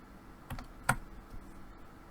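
A single print screen key pressed on a computer keyboard, giving a couple of light, close clicks over a quiet room.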